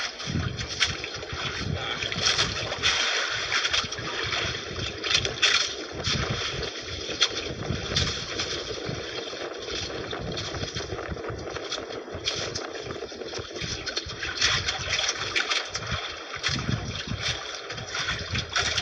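A small Filipino bangka boat moves across open water, with a steady rumble and gusty wind buffeting the microphone throughout.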